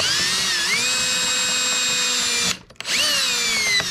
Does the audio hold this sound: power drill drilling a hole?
yes